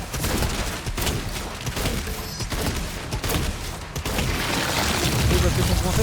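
Rapid gunfire from a weapon in the Doom video game, dense bursts of shots and booms layered with a constant roar of game effects. Talk runs faintly beneath the shooting.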